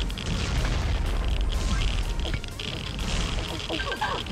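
Cursed Staff heavy weapon firing in Pixel Gun 3D, a loud, dense, booming stream of blasts and bursts with rumbling low end, close and continuous under faint talk.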